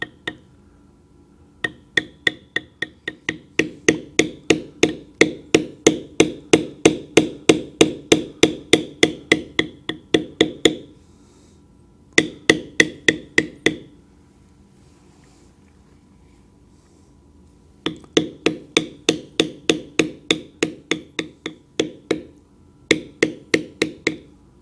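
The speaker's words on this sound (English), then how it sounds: "The finer the detail, the lighter the stroke of the mallet." A mallet taps a stamping tool into leather for dragon carving, making rapid runs of crisp, even knocks in several bursts separated by short pauses, close and moderately loud.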